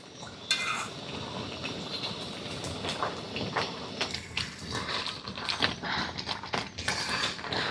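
A spoon gently stirs raw mango pickle with jaggery as it boils in a pot, giving a close run of soft scrapes, clinks and knocks over a low bubbling hiss.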